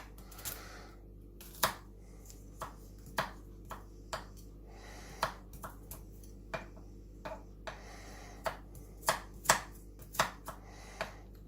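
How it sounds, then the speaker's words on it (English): A knife roughly chops food on a board for slow-cooked lamb, with a steady run of sharp, close knocks spaced irregularly, about one to two each second, over a low background hum. "I'll chop some of this up."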